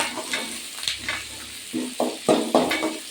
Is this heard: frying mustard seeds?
yes